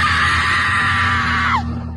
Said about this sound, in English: they raised their voices, shouting and screaming to discourage the protective mama bear.